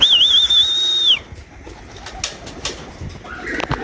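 Breeder pigeons coo and flap their wings as they enter a loft. A high, wavering whistle-like tone opens the clip, then short bursts of wing flutter and soft calls follow close by.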